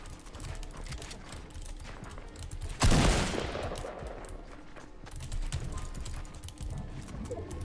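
Rapid Tommy gun fire rattles in a Fortnite match, a quick run of shots in the first seconds, then one sharp louder burst near the middle and scattered shots after it.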